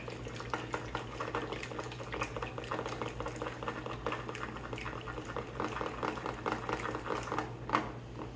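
A whisk stirring tahini sauce in a bowl, a steady busy wet patter and clatter running throughout, fairly close, with a hum underneath and no talking.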